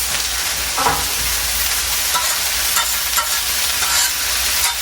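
Broccoli and cauliflower stir-fried for chicken fried rice, giving a steady, close sizzle with scraping stirs and light clatter of the pan throughout, and no voices.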